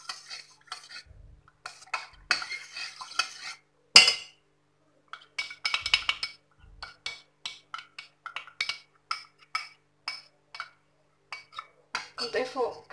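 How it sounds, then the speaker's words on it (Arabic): A utensil scrapes and clinks around inside a pot in short, uneven bursts while stirring a mixture with cold milk and sugar, with brief pauses between strokes, close and fairly quiet. "حنا كنخويو وفي نفس الوقت كنحركو"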